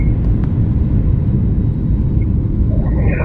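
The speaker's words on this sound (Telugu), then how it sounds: "బెంగళూరు విజయవాడ ఫ్లైట్ లేచింది చూడండి" Cabin of a Bengaluru to Vijayawada passenger airliner climbing after takeoff, a loud steady low jet engine rumble filling the space throughout, with no break.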